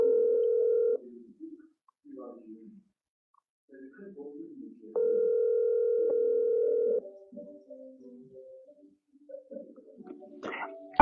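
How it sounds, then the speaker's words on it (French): A phone call's ringing tone sounds in two long steady electronic tones separated by silence, heard during a live audio call, with faint voices murmuring between rings. "Là, ça sonne, les gars."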